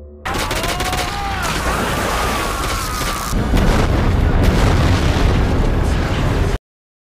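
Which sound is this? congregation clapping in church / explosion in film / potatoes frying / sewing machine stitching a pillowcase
explosion in film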